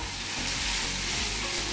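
Coconut and ginger fry in a spoonful of oil for a chicken curry, giving a dense, steady sizzle close up with faint stirring and no voices.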